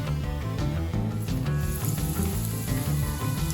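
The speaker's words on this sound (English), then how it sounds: "and then straight into the fryer" Panko-coated vegetable tempura sizzles in a deep fryer, a loud continuous crackle and hiss that holds steady throughout, with no talking.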